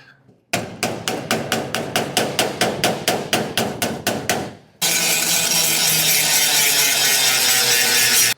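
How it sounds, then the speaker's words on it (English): About fifteen sharp, evenly spaced hammer blows ring out on a metal car hood panel, followed by a loud continuous hiss. "Had to hammer it into place."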